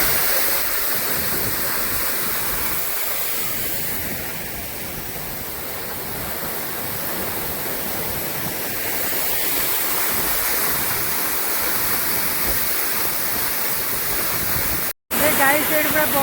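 A waterfall near Bhawanipatna in Kalahandi, Odisha, heard as a loud, steady roar of falling water that continues throughout, with a brief dropout near the end.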